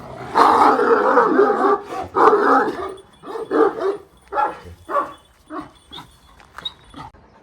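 Large XL wolfhound dogs bark loudly and close in heavy bursts, then trail off into shorter, spaced yips and whimpers. No one speaks.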